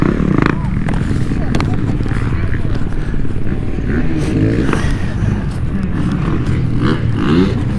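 A dirt bike engine fires up at a creek riding spot and pulls away, a steady buzzing motor roar with revving swells, close and continuous, with people talking over it.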